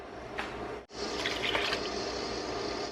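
Water poured into a cooking pot for broccoli soup, a soft steady splashing stream heard close up, briefly interrupted just before the one-second mark and then running on evenly until it stops.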